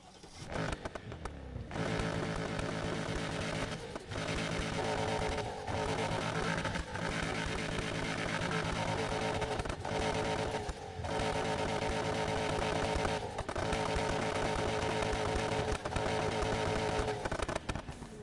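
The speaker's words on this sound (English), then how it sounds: "Okay, now for the exhaust. We've got the nice V8 in here." A V8 exhaust on a built Ford F-150 truck in the video game Need For Speed Heat drones loud and steady at idle and part throttle. The tone drops out briefly several times before resuming.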